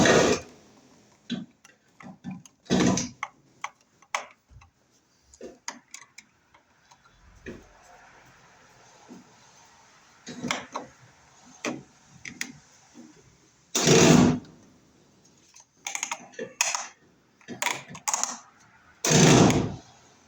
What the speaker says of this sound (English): And we'll screw our device into the box here.